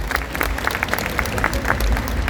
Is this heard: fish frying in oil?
no